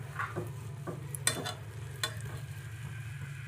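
Potato paratha fries in butter on a hot pan, giving a continuous close sizzle broken by a few light scraping and tapping sounds.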